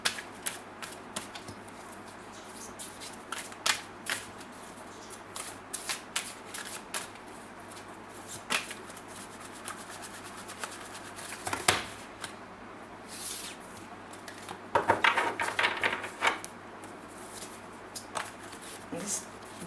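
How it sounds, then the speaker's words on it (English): A large tarot deck is shuffled at length, with a steady run of soft riffling card clicks and short flurries, close and fairly quiet, and a louder burst of shuffling near the end. "This deck takes time to shuffle because it's so big."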